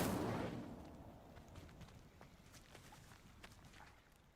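An Incendio fire spell goes off in Hogwarts Legacy with a loud burst that fades quickly. Scattered softer impacts and rumbles follow in the background.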